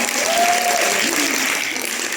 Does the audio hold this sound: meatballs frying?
no